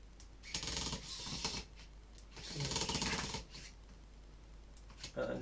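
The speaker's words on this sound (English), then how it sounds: "let's bolt in the Raspberry Pi to" Screws being driven to bolt a Raspberry Pi 4 into its case, with bursts of rapid scratchy ratcheting and clicking up close, separated by short pauses.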